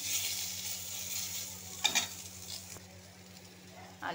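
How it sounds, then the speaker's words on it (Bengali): Potato pieces fry in oil in a pan, giving a steady soft sizzle with a couple of sharp utensil clinks against the pan; close and quiet, without talk. "এবার আমি আলুটা একটু ভেজে নিচ্ছি।"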